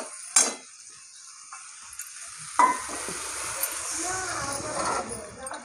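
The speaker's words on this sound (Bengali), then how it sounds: "এবার আমি জল ঢেলে দেবো।" Water splashes into a hot pan of Bengali veg curry (mochar ghonto), a sharp burst of sizzling that settles into steady bubbling and frying, close by, with a few utensil clinks.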